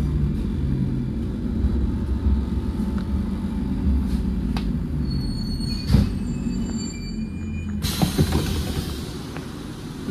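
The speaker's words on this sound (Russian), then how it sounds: "Вот это, наверное, вообще один из самых коротких перегонов Мосметро." A Moscow Metro train on the Butovskaya line runs between stations, a continuous loud rolling rumble of wheels on track with occasional clanks and a brief squeal, heard from inside the car without talking.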